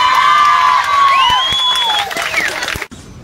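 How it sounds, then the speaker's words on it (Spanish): A crowd applauds and cheers loudly for a couple, with whoops and shouting over clapping that cuts off abruptly. "¡Todos un aplauso para esta pareja que está enamorada!"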